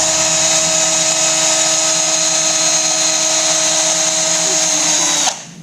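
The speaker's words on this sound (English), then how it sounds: "Household drill does it for you." A household power drill whirs at a steady high pitch for several seconds, spinning fishing line off a reel spool, loud and close, then abruptly winds down at the end.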